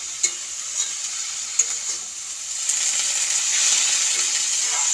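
Chopped potatoes frying with spices in a pan, stirred: a steady bright sizzle throughout with a few soft scraping knocks of the stirring, growing slightly louder toward the end, no talk.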